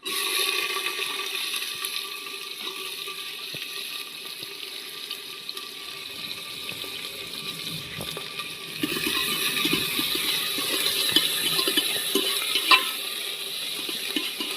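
Cumin seeds and onions fry in oil, a soft hiss that swells into a louder, busier sizzle partway through, heard up close with no talking.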